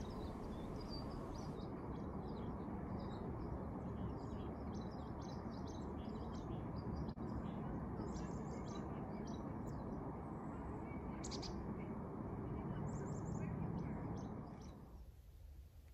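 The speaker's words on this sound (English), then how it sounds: "Or just to listen to the sounds that birds make, like this American tree sparrow." An American tree sparrow gives short, high chirping calls in cool-weather outdoors, scattered and fairly faint above a constant broadband wind or stream hiss that drops away near the end.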